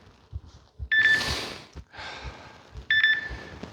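Electronic workout timers beep in short tonal bursts, two timers sounding at once in a home leg-day session, with soft thuds and breathing between the beeps.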